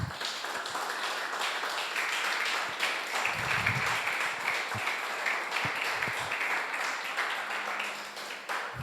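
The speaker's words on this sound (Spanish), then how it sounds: "Dale un aplauso al Señor." A church congregation claps together in praise, a full, continuous round of applause with scattered louder hand strikes and some low murmuring beneath it.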